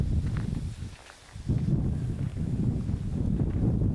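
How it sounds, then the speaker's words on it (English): Wind buffets the microphone out on a fen, a rough low rumble in uneven gusts that dips briefly before surging back. "It is quite windy."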